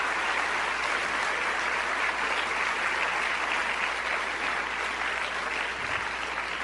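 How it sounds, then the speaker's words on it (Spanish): A church congregation applauds steadily in a sermon setting, a dense, even wash of clapping that holds at a constant level throughout with no voices over it. "¿Cuántos le dan un aplauso al Señor?"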